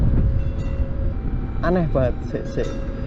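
Train rumbling past outdoors, a steady loud low rumble with a faint tone throughout, and people talking over it partway through.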